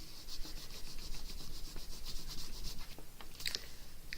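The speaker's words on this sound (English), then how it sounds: "Just rub that a little bit," Hand rubbing canvas flat onto a tabletop to stick it down during a canvas repair, a soft steady scratchy friction that runs continuously and close, with a few faint brighter ticks near the end.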